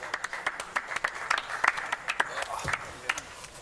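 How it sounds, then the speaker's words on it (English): At a European Poker Tour event in Monte Carlo, a small group applauds a player eliminated in 19th place. The sparse, uneven claps sound fairly close, with a voice heard alongside them. "Big round of applause for Ramsey Jalassi, our 19th place finisher"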